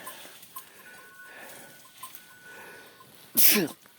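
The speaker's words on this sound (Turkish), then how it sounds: "Hapşırık tuttu." A person operating a drone outdoors lets out one sudden, loud sneeze near the end, after a stretch of faint, quiet background sound.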